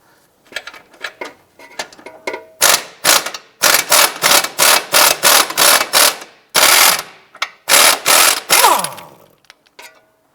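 On a 2004-2009 Subaru Outback, a ratcheting wrench turns a sway bar end link nut, giving loud, close, rapid clicking bursts in repeated strokes with brief pauses between them.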